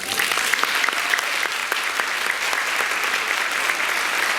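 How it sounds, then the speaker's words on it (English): A congregation at a Catholic family healing conference claps for God, a sustained, even round of applause from many people with a few sharper individual claps popping out of the crowd. "Can we clap for God?"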